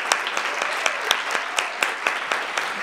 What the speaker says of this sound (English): Let's give all of our storytellers another big round of applause.